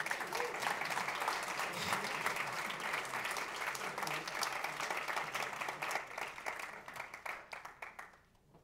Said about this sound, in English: give a huge applause to the Morenos family